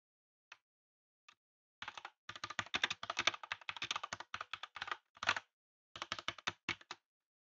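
Keys clack on a computer keyboard as a chat message is typed, a couple of isolated taps followed by quick irregular bursts of close, crisp keystrokes with short pauses, no talking.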